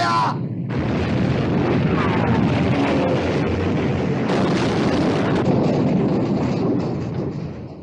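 Battleship naval guns firing in a 1960 war film, a massive sustained roar and rumble that fills the whole stretch at close range, with faint shouted voices near the start.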